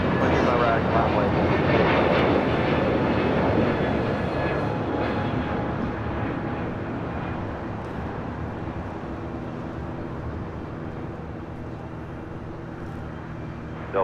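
A jet airplane takes off from runway 25 Right at LAX, a broad, loud rumbling roar that slowly fades as it departs, with voices faintly underneath.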